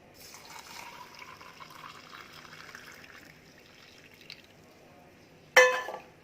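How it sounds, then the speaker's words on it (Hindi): Milk is poured over a flaxseed and sugar mixture with a soft, steady trickling fill that fades out, followed by a single sharp clink near the end. "हम दूध डालेंगे।"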